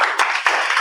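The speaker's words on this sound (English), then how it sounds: "We can clap for them." An audience at a tech meetup in Uganda breaks into applause, a brief, dense patter of many hands clapping together at moderate volume with no talking over it.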